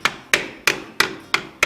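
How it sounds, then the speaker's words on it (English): Six steady, ringing hammer strikes drive staples into wood in a cabin being wired, each blow crisp and close with a short decaying ring, spaced about a third of a second apart. "Let's just hammer it"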